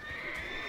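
A horse whinnies briefly in the World of Warcraft video game, a short bright neigh heard up close over a steady background hum.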